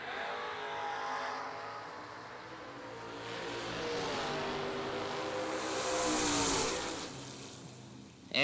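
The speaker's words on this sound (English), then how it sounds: "Chris Mitchell left side in the Colorado, dialed 633, taking on Anthony Zig. Zig in the Camaro right side, dialed 604." A Chevrolet Colorado and a Camaro launching side by side at a drag strip, a distant sustained engine roar that swells and fades as they run down the track.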